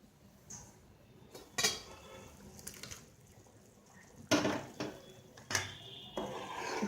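A metal lid goes onto a pot of raw tamarind dal just after tempering, with several sharp clanks and knocks of metal cookware spaced over a quiet background, no talking.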